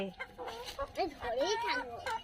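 Several chickens cluck and squawk nearby in quick, uneven bursts, their calls overlapping at moderate loudness.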